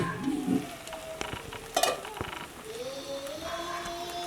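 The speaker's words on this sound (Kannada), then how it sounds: "ಒಂದು ಸ್ವಲ್ಪ ಕೊತ್ತಂಬರಿ ಸೊಪ್ಪನ್ನು ಇಲ್ಲಿ ಮೇಲಿಂದ ಸೇರಿಸ್ಕೊಂಡು ಒಂದು ಮಿಕ್ಸನ್ನು ಕೊಡುವ" Chilli garlic prawns are stirred in a hot pan after coriander is added, with a spatula scraping and clinking over a light sizzle, close by and moderately loud.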